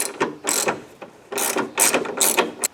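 A ratchet loosening a 10mm bolt on a Subaru air box gives several loud, close bursts of rapid clicking, separated by short pauses between strokes.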